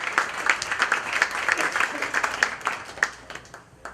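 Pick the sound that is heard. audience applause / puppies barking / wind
audience applause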